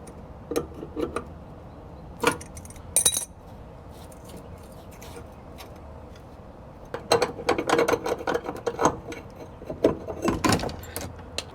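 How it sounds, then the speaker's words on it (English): Pliers working loose the cable hardware on a black tank valve of a Grand Design Imagine RV, giving scattered metallic clicks and ratcheting scrapes in short bursts, with a denser run of clicking toward the end. "we're going to use a pair of pliers to get this off"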